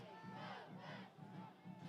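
Loud crowd at a high school football game inside Browan Stadium, a continuous roar of voices and shouts filling the whole stretch with rising and falling swells.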